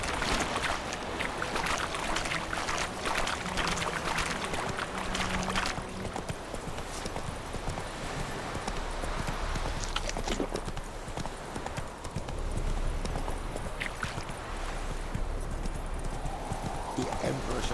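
Roach the horse in The Witcher 3 galloping, a rapid, steady clip-clop of hooves close up and continuing throughout, with a voice speaking over part of it.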